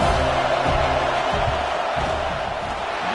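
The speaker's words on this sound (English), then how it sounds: "This crowd trying to do its part to get inside the kicker's head" Stadium crowd at a Michigan vs USC football game roaring loudly and steadily through a field goal attempt, a dense sustained wall of noise with scattered yells and whoops.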